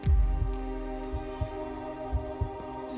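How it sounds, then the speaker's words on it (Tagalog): Heartbeat sound effect, soft low thumps in a loose repeating rhythm over a steady faint hum, quiet and alone. "Bumilis ang tibok ng puso ko"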